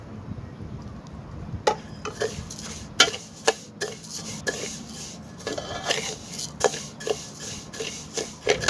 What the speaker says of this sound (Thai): ตอนนี้ก็ต้องคั่วเหลืองแล้วนะครับ